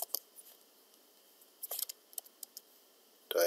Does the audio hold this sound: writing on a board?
yes